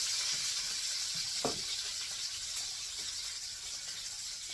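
Bacon frying in a pan, a steady close hiss and sizzle with a few faint pops, heard alone without talking.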